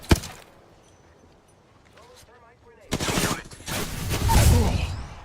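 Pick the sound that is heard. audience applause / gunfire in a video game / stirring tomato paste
gunfire in a video game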